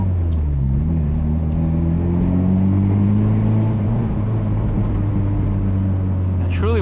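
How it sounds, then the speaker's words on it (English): Turbocharged 600+ hp Mitsubishi Evo X pulling hard under acceleration at night, a loud, close engine drone rising steadily in pitch with turbo whine building over the run, ending in a sharp rising whistle. "Probably just a couple small little pulls just to hear the turbo spool."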